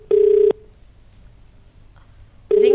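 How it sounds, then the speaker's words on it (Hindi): A telephone call is placed and rings on the line. Two loud, steady ringback tones, each about half a second long, are separated by a two-second pause with low background hiss. "रिंग जा रही है"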